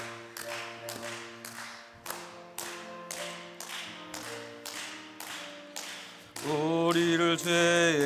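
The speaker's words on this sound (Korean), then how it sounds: "박수하면서 찬양하겠습니다." A church congregation at a Holy Week dawn prayer meeting claps in a steady, regular beat while singing hymn 260, with organ-like sustained tones underneath and voices swelling near the end.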